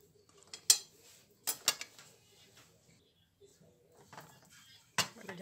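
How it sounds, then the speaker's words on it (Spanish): Butter being spread around a frying pan with a utensil, a few sharp metallic scrapes and clinks against the pan separated by quieter gaps, close and fairly faint. "Vamos a esparcirla bien por el sartén"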